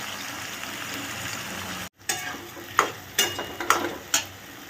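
Onions with salt fry in a pan, a soft steady sizzle broken by a brief pause, then several sharp scraping stirs and clinks of a spatula against the pan at an irregular pace.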